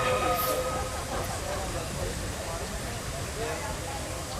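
An SY 2-8-2 steam locomotive at the Tangshan coal mine heads back to the underground mine in cold weather, giving a steady, continuous rumble with faint high tonal whines riding over it.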